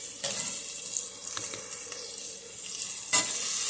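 A spoon stirs apple butternut squash hash in a hot, smoky pan, scraping browned bits off the bottom over a steady sizzle, with a couple of sharper scrapes, no talk.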